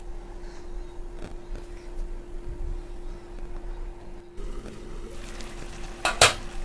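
Pumpkin greens with potatoes, water and a little sugar are stirred in a pot, with soft scraping and light metallic clinks scattered over a quiet kitchen hum and one sharp clatter near the end.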